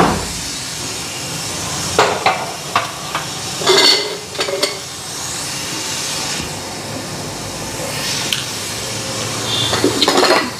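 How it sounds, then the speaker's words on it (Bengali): A roti fries on a hot tawa while curry cooks, with a steady sizzle and hiss, scattered clinks and scrapes of utensils against the pans, and a louder stirring burst partway through. "এদিকে তাওয়া বসাই দিই, রুটি ভাজতে থাকি, তরকারিও হইতে থাকবো।"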